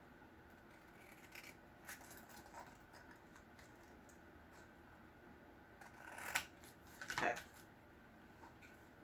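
Scissors snip open a package in a quiet room, a few faint crisp cuts and rustles with two louder snipping bursts near the end; a voice speaks a single word briefly.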